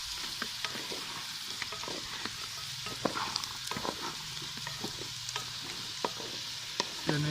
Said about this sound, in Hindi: चने को ऑयल में अच्छी तरह फ्राई कर लेंगे।